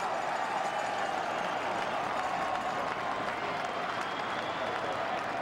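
A football stadium crowd at a college game between Colorado State and Idaho roars steadily after a false start, a dense, sustained cheer and applause that holds at an even level throughout.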